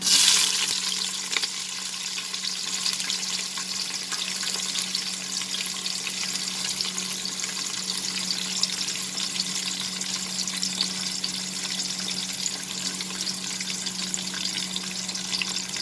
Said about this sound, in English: We'll fry the onions, friends, till it slightly changes its color.